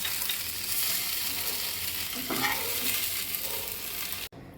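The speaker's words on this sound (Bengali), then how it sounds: "এবারে আমি টোফুগুলো দিয়ে দিচ্ছি, একটু টোফুগুলোকে উল্টে পাল্টে ভেজে নেব।" Tofu pieces fry in butter with a continuous sizzle and a few scraping stirs partway through, close and steady, ending with a brief pause.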